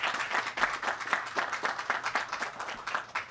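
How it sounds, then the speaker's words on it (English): Applause from an outdoor crowd on a Cambria County farm, greeting the host family at the 2022 Pennsylvania Farm Show theme announcement; steady, moderately close clapping with no talk. "Let's give them a round of applause for hosting."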